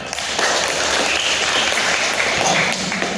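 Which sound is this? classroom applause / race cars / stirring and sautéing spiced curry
classroom applause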